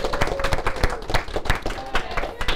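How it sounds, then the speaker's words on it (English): Applause breaks out in a classroom, a small group clapping steadily with sharp, uneven hand claps close by, while a voice murmurs over it. "I think that deserves a round of applause."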